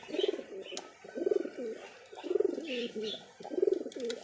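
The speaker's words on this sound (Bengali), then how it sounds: "দেখছেন ডাক কি, কবুতর পাগল হয়ে আছে ডাকের তাল্লায় একবারে।" A giribaz pigeon coos in repeated rolling phrases, four throaty bursts close by, with faint background noise between them.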